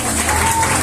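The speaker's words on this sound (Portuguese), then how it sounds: "As palmas bem alegres para Jesus." Church congregation applauding joyfully, a dense steady wash of clapping hands filling the room for under a second.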